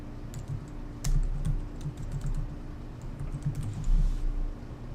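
Someone types on a computer keyboard in quick, uneven bursts of close, crisp clicks, with a few louder key strikes standing out against a quiet room hum.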